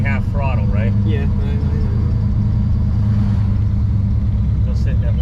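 A 1987 Chevrolet Monte Carlo SS engine idles with a loud, steady low rumble throughout, while people talk over it near the start.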